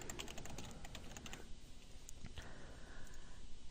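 Quick clicking keystrokes on a computer keyboard, a brisk burst of typing in the first half followed by a few scattered key presses, close and fairly quiet with no voices.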